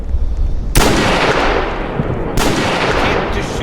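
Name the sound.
gunfire in a storm chasing video game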